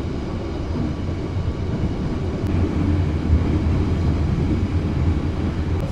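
Steady low rumble of the KA Pasundan economy passenger train rolling along the rails, heard from inside the carriage as a continuous broadband roar with no talking.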